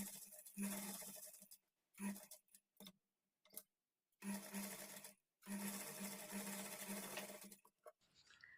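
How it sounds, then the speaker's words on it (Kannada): A sewing machine stitches along a blouse edge in several short bursts of rapid, close mechanical whirring, separated by brief pauses and near silence. "ಈ ಕಡೆ ಎಡ್ಜಿಗೆ ಇದ್ರ ಮೇಲೆ ಇಟ್ಕೊಂಡು ಒಂದು ಸ್ಟಿಚ್ ಮಾಡ್ಕೊಳ್ಬೇಕು"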